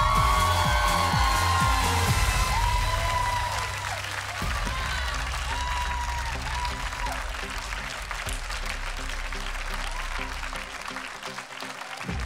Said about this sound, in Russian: Аплодисменты для Юрия!